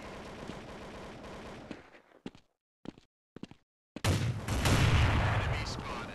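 Bursts of P90 gunfire in Counter-Strike on the map The Town: rapid volleys, a stretch of scattered single shots and silence, then a loud, dense burst of automatic fire.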